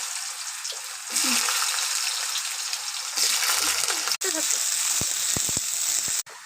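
Potato pieces dropped into hot oil already tempered with bay leaf, dried red chilli, cumin and nigella burst into a loud, steady sizzle that surges twice as more goes in, with brief stirring clinks near the end.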